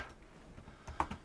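Quick, light keystrokes on a computer keyboard, a few soft clicks building to sharper taps near the end, close and quiet with no other sound.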